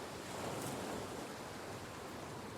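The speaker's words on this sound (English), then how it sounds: "Let the rhythm of the waves guide you." Ocean waves wash in a brief, steady hiss of surf that sounds soft and even, with no other sounds.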